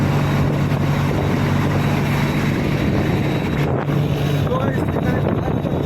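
A fishing boat's engine runs at sea with a steady low drone and rushing wind buffeting the microphone, and muffled voices come through faintly underneath.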